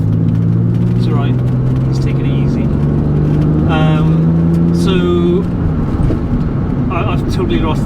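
A Ferrari drives past at close range, its engine a loud steady drone that rises and then fades. It plays over the low rumble of a Porsche 996 cabin, with a voice speaking on top.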